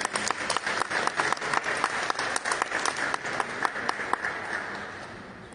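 At a reception for a traditional art and crafts collection attended by Peru's minister, the audience applauds Esteban Casario Redondo, the Lima Provincias representative. Brisk, distinct claps come from a modest crowd, near and fairly loud, then gradually thin and fade out.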